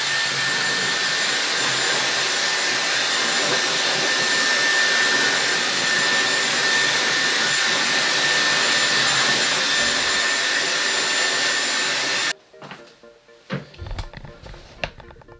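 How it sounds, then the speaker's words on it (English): A Dyson hair dryer blows loud and steady close by while drying a short beard, a continuous whooshing whine that cuts off abruptly near the end, followed by a few soft handling knocks. "I just quickly dry it with the Dyson hairdryer"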